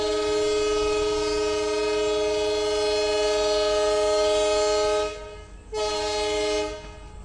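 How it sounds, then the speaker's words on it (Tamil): The Pamban Express pulls away from Sivaganga railway station, a loud sustained multi-tone train horn blaring for several seconds, then cutting off briefly before a second shorter blast. "சிவகங்கையிலேருந்து இப்போ டிபார்ச்சர் ஆகி போயிட்டுருக்கோங்க."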